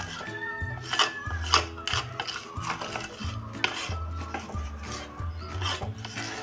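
A spoon stirs a sweet laddu mixture after saffron-yellow food color is added, scraping and rubbing steadily around the vessel up close, while background music plays throughout.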